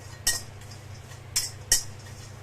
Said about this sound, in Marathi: सर्व मसाले सतत परतत भाजून घ्यायचे आहेत।